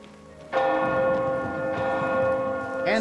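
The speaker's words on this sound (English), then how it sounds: "Again with the bells!" Church bells ring in the Oblivion Remastered video game, a loud, sustained peal with several overlapping tones starting after a short quiet lead-in and swelling again near the end, heard alone without talk.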